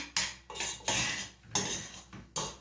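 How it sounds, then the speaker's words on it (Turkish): A metal spoon clinks and scrapes against a bowl while stirring a cookie dough mixture with cinnamon for apple cookies, five sharp, loud bursts of clatter separated by short pauses. "Şimdi onu bir karıştırayım."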